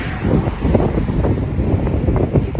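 Strong, gusty wind buffets a microphone outdoors on a cold Massachusetts morning, producing a loud, continuous low rumble with no talking.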